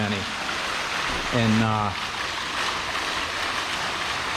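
Continuous rushing splash of a working water fountain inside a nearly empty, dead indoor mall, filling the space as a steady broadband wash; a voice briefly speaks over it.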